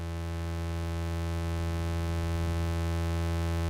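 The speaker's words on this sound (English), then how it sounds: "So this is the sound of the 112 oscillator running in pulse wave mode." Eurorack 112 oscillator in pulse wave mode, holding a steady, buzzy, harmonically rich tone at constant pitch and level for the whole stretch, with no voices.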